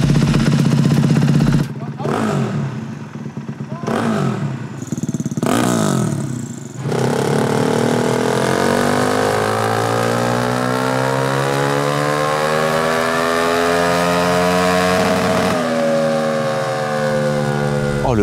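A turbocharged dirt bike engine starts with rough, sputtering bursts and gaps, then catches and runs loudly, its pitch swelling and sliding as it revs and holds a buzzing idle close by.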